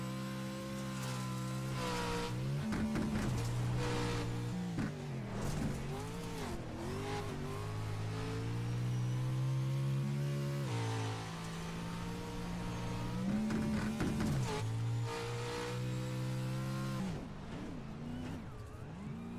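On-board sound of a Pro 4 race car lapping at Crandon, the engine loud and close, revving up and down through repeated gear changes and throttle lifts with no talk over it.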